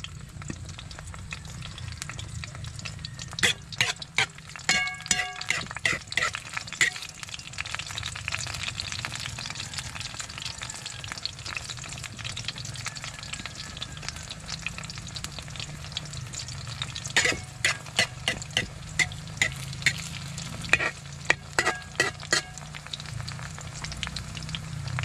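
Fresh duck eggs fry in oil in a rural outdoor setting, giving a steady close sizzle with bursts of sharp crackles and spatters, plus occasional spoon scraping and stirring noises.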